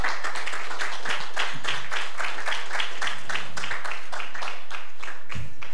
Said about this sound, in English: Give the Lord a great big hand clap.